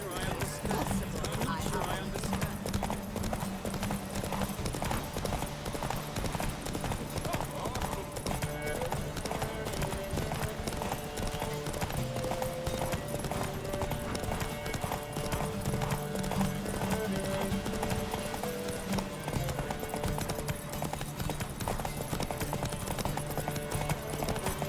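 Roach, a horse in The Witcher 3, gallops with a quick, steady clip-clop of hooves that runs throughout under a continuous music score and intermittent voices.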